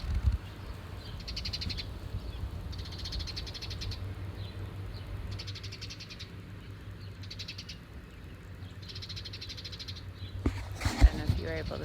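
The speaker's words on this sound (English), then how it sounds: "it's a very chatty bird" A chatty bird calls from trees outdoors, repeated bursts of chirping in a regular rhythm at moderate distance over a low background hum, with a brief rustle near the end.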